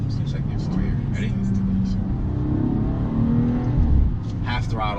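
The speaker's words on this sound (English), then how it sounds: "Let's do a second gear pull here." A 2018 BMW M240i pulls hard in second gear at half throttle, its engine note a steady loud drone rising under the run, with a voice talking over it from inside the cabin.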